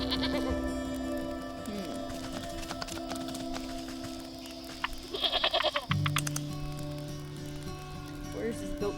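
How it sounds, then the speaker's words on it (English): A goat in the video game Wytchwood gives a few short bleats over a bed of steady game music and a soft rain-like ambience, moderately close, with no talking. "Where is this goat taking me?"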